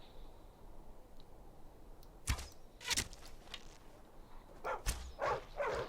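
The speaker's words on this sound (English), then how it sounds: "Is that a wolf? It is, isn't it?" A wolf attacks in Skyrim, with sharp snarls and barks near 2.3, 3 and 5 seconds and growling bursts toward the end, mid-distance over quiet ambient game sound.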